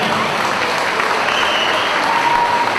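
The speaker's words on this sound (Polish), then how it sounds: "Duże brawa." A sports event audience breaking into applause: dense, steady clapping from a large crowd filling the room at full volume for the whole stretch.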